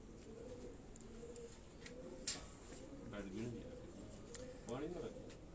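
Pigeons coo in soft, repeated throaty rolls close by, with faint background voices underneath.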